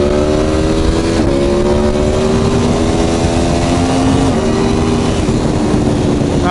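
An Aprilia Tuono Factory V4 1100 motorcycle engine pulls hard through rising gears, its loud, steady roar climbing in pitch with brief dips at each shift, heard up close and alone with no talk over it.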